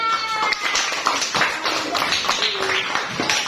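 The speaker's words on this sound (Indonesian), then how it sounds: "Oke, beri tepuk tangan." A classroom of students claps for a classmate, a dense, fast patter of many hands that runs steadily close by, with a few voices mixed in.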